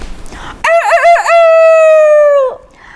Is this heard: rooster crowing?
yes